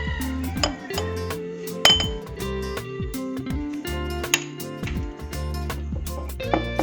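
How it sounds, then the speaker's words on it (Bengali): Spoon stirring Kashmiri chilli powder and turmeric with water in a small bowl, giving repeated close, bright clinks and scrapes against the dish in an uneven rhythm. "তো এটা আমি একটু জল দিয়ে গুলে নেব।"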